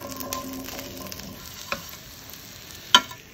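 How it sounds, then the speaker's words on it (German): Gnocchi dropped into melted butter in a pan, sizzling steadily up close with a few sharp spatula taps and scrapes, one louder clack near the end, no voices. "Die Butter ist geschmolzen, Gnocchi zugeben."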